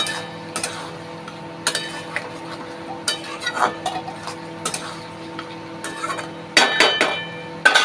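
Chicken scraps cooking in a pan are turned and stirred with a metal spoon, giving irregular sharp clinks and scrapes spaced about a second apart over a soft frying background, close by, ending in a quick cluster of clatters.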